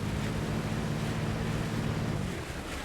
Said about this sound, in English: Oh wait, no, it's just water effects.